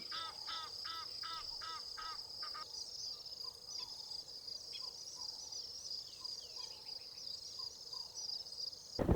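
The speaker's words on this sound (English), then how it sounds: "I love the sound of the bush waking up with so many birds singing and flying above the river," Birds calling in riverside bush at dawn in Kruger's Letaba area, a run of repeated chirping bursts early on, then scattered calls over a steady high insect-like drone, with a brief loud bump at the very end.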